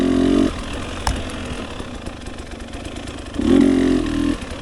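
A two-stroke motorcycle at a practice track revs in two short, loud buzzing bursts at the start and near the end, with a quieter engine drone between them.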